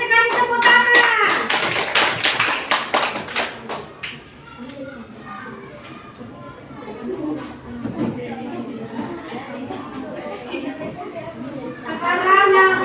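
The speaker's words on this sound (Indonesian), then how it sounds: "Ayo kita kasih tepuk tangan." Classroom applause after a group presentation, a loud burst of clapping from many students that fades into chatter and voices, then a brief final round of clapping.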